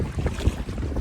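Wind gusts across a Scottish lake during a solo camping and fishing trip, buffeting the microphone with a low, uneven rumble and faint lapping water beneath, and no one speaks.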